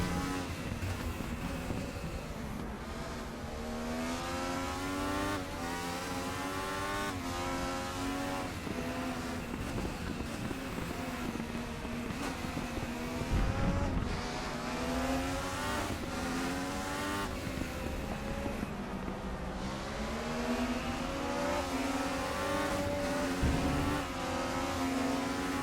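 A 1995 Mercedes DTM race car in a sim racing game, its engine screaming continuously as it revs up and down through gear changes over a long stretch, loud and close with no talking.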